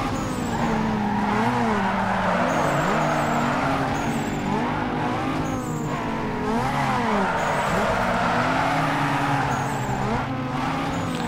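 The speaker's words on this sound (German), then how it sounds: "Wir haben mit einem Drift nach vorne geschafft." Engine roaring and tires squealing as a car drifts through a corner in the street-racing game Need for Speed Underground 2, a sustained wavering howl of rubber over steady engine drone, loud and close.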